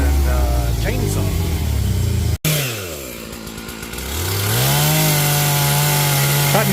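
A chainsaw cutting down trees, its engine buzzing loud and close, dropping in pitch as it bogs into the wood after a brief cutout, then revving back up to a steady whine.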